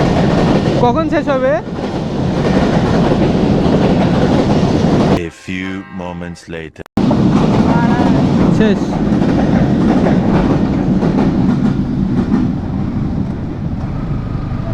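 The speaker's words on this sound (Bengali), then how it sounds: "কয়টা বগি গেল মাল ট্রেন?" A goods train rolls past close by, loud continuous rumble and clatter of wagons over the rails for the whole stretch, with a brief dip midway; people talk over it.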